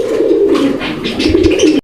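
Pigeons coo in low, throaty, repeated calls, close by and clear, with no talking.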